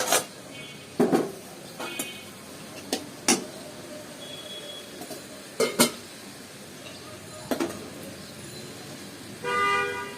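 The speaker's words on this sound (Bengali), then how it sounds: "ডাল তেলে দেওয়ার জন্য আমি অন্য আরেকটি কড়াই বসিয়ে নিচ্ছি" A metal kadai is set onto a kitchen stove, giving several separate sharp clanks and knocks spread through a quiet room, with a brief clatter near the end and no talking.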